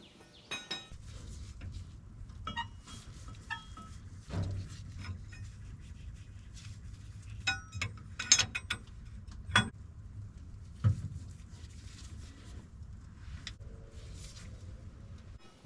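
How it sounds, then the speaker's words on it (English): Metal spanners clinking and clattering inside a big V12 two-stroke Detroit Diesel dump truck while the right one is sought, scattered sharp taps and knocks at irregular intervals, fairly close but quiet. "I'll just check which spanner I'm going to need inside there."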